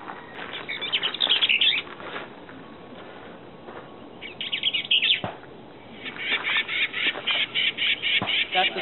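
Recorded songbird playback with a two-part song, ascending then descending, followed by harsh scolding calls; bright chirpy bursts come in clusters, loud and close, with a short quiet stretch between phrases.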